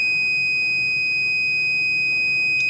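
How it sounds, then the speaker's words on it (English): Steady high continuity beep from a multimeter testing the normally closed contact of a contactor, held as one continuous tone through the whole moment over faint background hum. "we are supposed to get a beep sound in the normally closed section"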